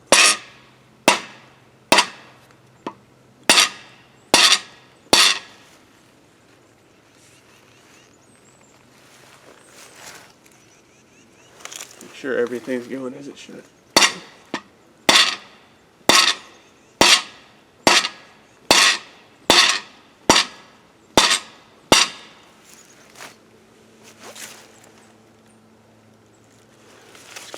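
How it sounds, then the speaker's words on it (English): A 2-pound Harbor Freight rubber mallet taps out a cam bearing in a steady series of sharp, close knocks, with a brief pause and a muffled scraping shuffle before the blows resume; someone speaks briefly. "I'm using the rubber mallet here, Harbor Freight Special. See, it's a 2-pound rubber hammer, and then just tap it out."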